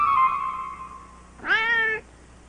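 A cat gives two meows, the first a long drawn-out tone and the second a brief rising cry, close and clear with no talk over them.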